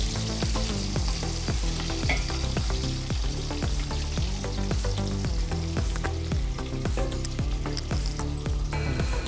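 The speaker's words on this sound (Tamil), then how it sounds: "கட் பண்ணி வச்ச வெங்காயத்தை போட்டுடலாம்." Chopped onions fry in hot oil for chicken biryani, a dense continuous sizzle up close with constant stirring scrapes and clicks running throughout.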